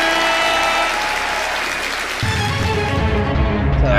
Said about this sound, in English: Just had to wait for the applause.